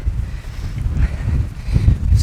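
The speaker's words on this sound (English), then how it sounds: "As you can see, it's very windy" Strong wind buffets the microphone in low, rumbling gusts that swell and fade over a couple of seconds.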